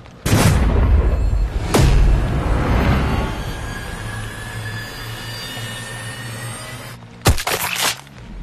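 Sniper rifle shots in the video game Sniper Ghost Warrior 3 crack out as sharp, loud booms, two early and a closely spaced pair near the end, each trailing into a rumbling decay with low ambient noise between.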